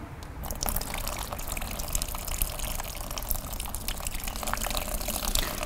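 Diluted fertilizer solution is poured through a potted orchid, a continuous close trickle and splash of liquid running through the pot with scattered drips, steady throughout.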